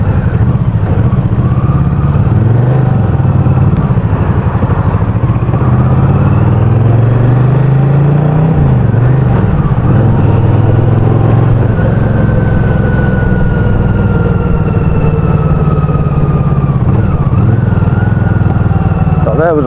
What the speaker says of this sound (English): there was a little pop, but that's because I blipped the throttle